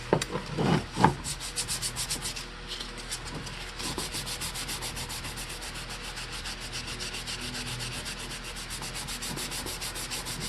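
Close, continuous hand sanding on wood with a roll of 180-grit Indasa sandpaper makes a rapid rhythmic scratchy rubbing, with a few heavier strokes at the start before an even back-and-forth pace.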